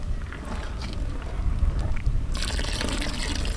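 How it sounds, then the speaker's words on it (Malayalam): Custard mixed with milk is poured into a pan of milk, a close liquid pour with gurgling and trickling that grows into a brighter, louder splashing stream near the end. "ഇത് നമുക്ക് നമ്മുടെ പാലിനകത്തേക്ക് ഒഴിച്ചു കൊടുക്കാം."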